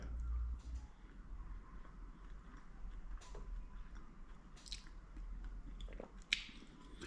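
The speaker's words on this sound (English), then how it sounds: "let me just have a taste of the meat by itself" Someone chews Turkish pide beef topping close to the microphone, giving soft, quiet, moist bites and mastication with a few sharper crunchy moments.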